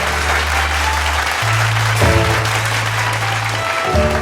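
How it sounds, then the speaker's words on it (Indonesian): An audience applauds a performer at a stage show with a national comedian, a dense, steady wash of clapping over sustained low music tones throughout. "Tepuk tangan untuk Bang Dai."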